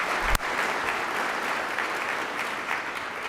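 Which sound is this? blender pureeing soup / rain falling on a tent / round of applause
round of applause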